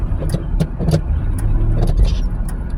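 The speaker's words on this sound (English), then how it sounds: "If this car tries to speed up as I'm trying to get over," Road noise from inside a car on the way to work as another car nearby speeds up, a steady low engine and tyre rumble with intermittent ticking and clicking sounds over it, no talking.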